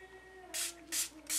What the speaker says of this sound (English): I'm just gonna spray off a little bit.